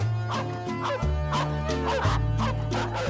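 Bernese mountain dogs at a Swiss farm give a rapid series of short, loud barks and yips close by, over a sustained tonal background.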